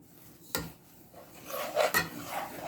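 A spoon stirs sugar melting in a pan over a low flame with no water added, making soft scraping and rubbing strokes with a couple of sharper clinks against the metal. No one speaks.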